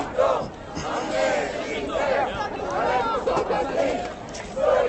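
A large, calm crowd mills around an open city square during a Nuit Debout general assembly at Place de la République, a steady murmur of many voices with scattered louder calls rising and falling throughout.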